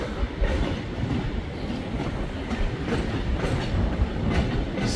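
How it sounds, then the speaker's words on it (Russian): Train rolling along rail track in Vladivostok, a steady loud rumble with rhythmic clickety-clack of wheels over rail joints throughout, no voices. "Обожаю электрички, поезда, любой железнодорожный транспорт."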